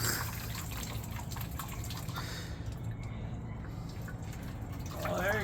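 Water drains from a water heater into a cup as a faint, steady trickle with light dripping over low background noise.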